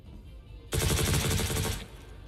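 Rapid burst of automatic gunfire in a first-person shooter video game, loud and close, lasting about a second before cutting off, with no talking over it.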